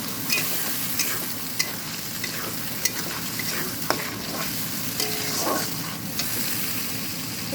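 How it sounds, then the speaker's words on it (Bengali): Ginger, garlic and chilli paste fries in oil after browned onions, a close, steady sizzle with repeated scraping stirs and clinks of a spatula against the pan. "এইগুলো একটু তেলের উপর ভেজে নেব"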